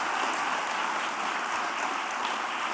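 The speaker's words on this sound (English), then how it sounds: "That deserves an applause, please." An audience at the Nordic Women in Tech Awards 2023 ceremony in Iceland applauds with an even, dense wash of clapping that holds steady for a few seconds.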